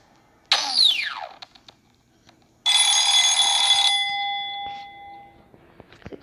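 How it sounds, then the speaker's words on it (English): A synthetic swooping chime followed by a loud electronic ringing alarm in Stickman Survival that sounds for about a second and rings out, with faint clicks between. "I can't rely on that alarm anymore"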